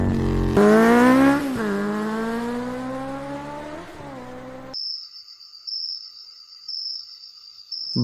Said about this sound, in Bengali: এবার একটু জোরেই বাইকটা চালালো